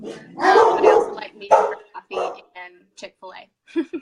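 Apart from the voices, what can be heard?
dogs barking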